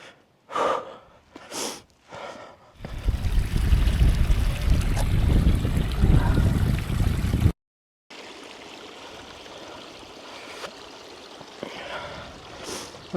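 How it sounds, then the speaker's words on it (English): Mountain stream water rushes steadily on Ben Nevis, a loud broadband gush that cuts off abruptly and resumes, with heavy breathing close by at the start. "That's the purest water you're ever going to drink right there."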